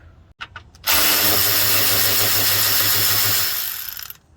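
A power tool, likely an impact driver or drill, loosens a 10mm bolt on a Chevy Spark 1.2L alternator: a few short clicks, then a loud sustained whirring burst of about three seconds that tapers off.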